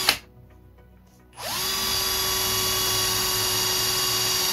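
A power drill with a worn, dulled bit spins up with a rising whine, then holds a steady, loud drone while boring a pilot hole in wood. It follows a quiet moment, with no speech.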